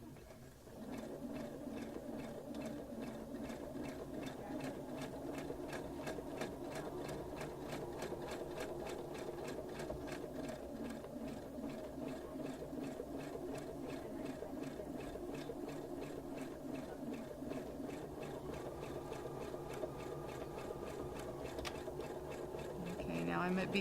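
A sewing machine stitches along a ruler work template with a continuous, even mechanical chatter for the whole stretch, close and steady.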